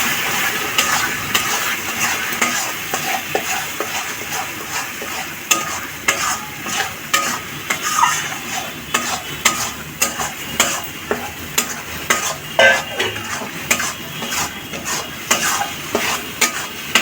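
Taro mash with turmeric and salt is stirred in a frying pan, a continuous soft sizzle under repeated scraping and knocking of a spatula on the pan, steady and close, with no talking.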